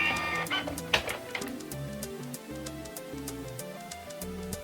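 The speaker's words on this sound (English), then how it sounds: "And then I printed it out onto a printable vinyl using a high quality ink bath printer." An inkjet printer printing labels onto printable vinyl, with a steady mechanical whir of the moving print head and regular sharp ticks and clicks as the sheet advances, close and alone.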